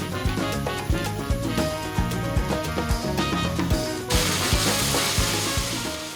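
Chicken thighs sizzle and fry loudly in red curry paste at the bottom of a pot, a steady crackling hiss with occasional stirring scrapes and a brighter burst of sizzle partway through.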